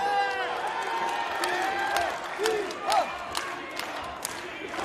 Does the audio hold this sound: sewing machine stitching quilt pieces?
no